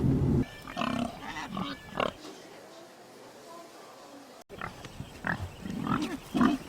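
Pigs grunt on a farm, brief snorts and grunts mixed with a narrating voice, with a quieter stretch midway before the talk and animal noises return.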